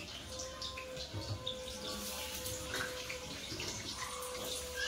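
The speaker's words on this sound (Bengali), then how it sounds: "কাটার পরে গরম জল দিয়ে ধুয়ে নিয়েছি" Hot water runs steadily over cut cauliflower, an even splashing stream close by, with faint bird calls in the background.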